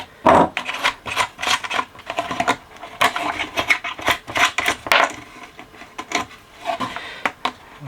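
Small metal nuts are worked off the carriage strap of a 1970 KB record player, giving close, intermittent scraping and rasping bursts with short pauses between turns.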